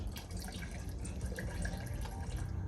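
McKee's N914 rinseless wash pours into a bucket holding about four gallons of water, a continuous close splashing and trickling stream.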